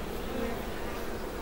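A dense, even buzz of honeybees swarming around a very large hive, steady and close, with no talk over it.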